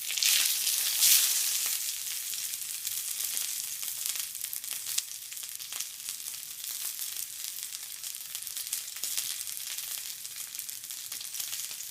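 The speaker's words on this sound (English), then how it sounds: "So once we get a nice sear, we can still give it a little bit more." Wild duck breasts sear in a hot pan, giving a steady, close crackling sizzle that stays fairly even throughout, with a brief louder burst near the start and no voices.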